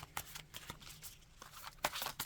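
Small black tarot cards are shuffled by hand in short, soft riffling bursts, quiet and close, with brief pauses between flurries.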